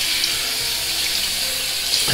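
Cold tap water runs steadily into a sink to rinse a razor, a close, continuous hissing splash with no voices.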